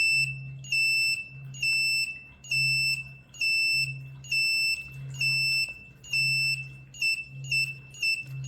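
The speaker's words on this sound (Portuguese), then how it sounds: "Ligar alarme." A smart home alarm sounds after being switched on by voice command, repeating loud electronic beeping pulses of about half a second each, alone with no talk.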